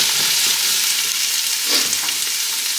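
Hot oil sizzles and crackles steadily in a pan of scallions as a whole carrot goes in, a brief stir lifting the noise for a moment, close and loud with no voices.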